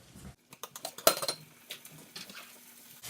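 A pan being set back over medium-high heat on a stove, giving a few close metallic clinks and knocks with one sharper clank, followed by faint light rattling in a quiet kitchen.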